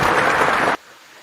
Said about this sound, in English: let me go ahead and give you guys a fantastic round of applause